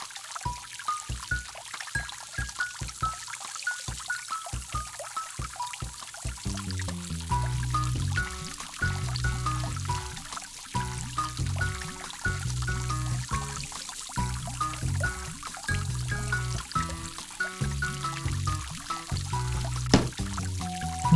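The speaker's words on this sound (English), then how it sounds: "The water is filling the cup." Water pouring into a cup in a PBS Kids science game, a steady trickling pour carried over a looping, bouncy game music bed with no talking.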